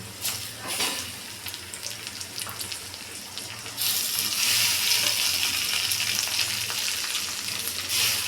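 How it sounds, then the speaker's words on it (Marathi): Chopped tomatoes go into a pan of frying onions with ginger-garlic paste for paneer bhurji, and the steady sizzle swells louder and hissier as the wet tomatoes hit the hot oil and are stirred, with a low hum underneath. "कांदे तळले गेले, आता आपण टमाटे टाकून घेऊ।"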